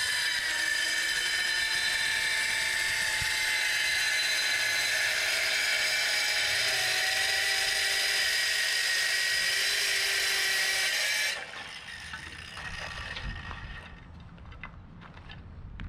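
A power saw screams steadily at high pitch for about eleven seconds while cutting fiber cement siding, then stops abruptly, leaving quieter clattering and handling noise.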